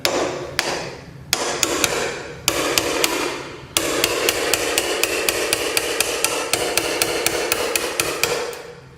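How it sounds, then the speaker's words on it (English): A hammer strikes a chisel set into the end grain of door wood, with a few spaced blows at first, then a long run of steady, rhythmic taps that ring close and loud. "I'm going to set the chisel in on the end grain right there, strike it"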